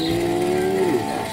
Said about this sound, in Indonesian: Ada induk sapi warna hitam